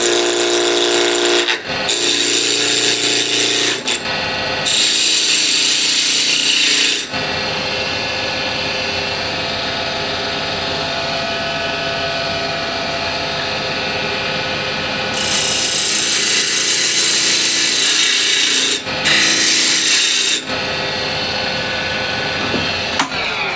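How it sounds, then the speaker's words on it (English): A wood lathe turns walnut burl for a box while a small spindle gouge cuts it, giving loud, continuous rough cutting and rubbing with several brief pauses and changes in intensity as the tool is lifted and reapplied. "I'll use small spindle gouge"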